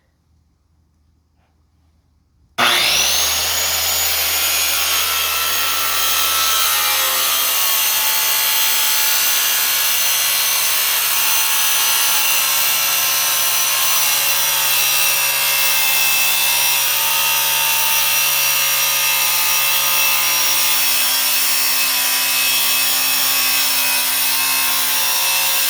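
A circular saw fitted with a cutting plate slices a clamped sheet of metal along a straight edge. After a brief quiet start, a loud, sustained high-pitched whine and grinding runs steadily to the end.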